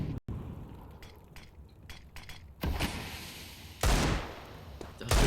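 A grenade goes off in a Counter-Strike match on Dust2, one of several sharp blasts and bursts of gunfire that stand out against quieter in-game ambience, with no talking.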